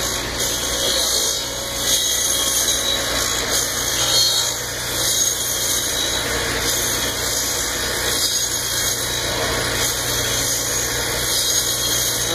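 Lathe turning a wooden decoy body, a steady loud mechanical drone with a high squealing whine running continuously and close throughout.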